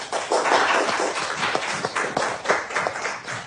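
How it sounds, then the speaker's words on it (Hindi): Classroom applause from a group of students: a quick burst of scattered hand claps, fairly close, swelling early and then thinning into uneven individual claps. "तो तालियां हो जाए।"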